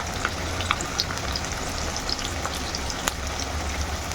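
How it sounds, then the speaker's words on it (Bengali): Sliced onions fry in hot oil for birista, giving a steady close sizzle with scattered crackles and pops. The sound stays at an even moderate level throughout, with no voices. "এখন পেঁয়াজগুলো সব তেলের মধ্যে কিন্তু দিয়ে দিলাম"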